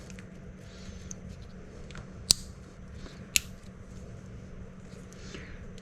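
Material being cut away with scissors-like snips while wiring a new fuel pump: two sharp, close cuts stand out over a low, steady background hum.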